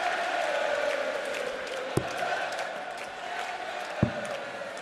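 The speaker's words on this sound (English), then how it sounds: "Crowd starting to sing" An arena crowd at the 2015 Players Championship darts final between Van Gerwen and Lewis keeps up a steady, distant sung chant, broken by two sharp thuds.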